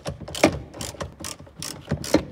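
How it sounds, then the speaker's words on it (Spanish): A ratchet wrench with a 12 mm socket clicks in quick repeated bursts while loosening the bolts of a rear shock absorber on a 2005-2012 Chevrolet Optra, close up with no talk. "Con un dado de 12, la llave de carraca, aflojamos los tres tornillos"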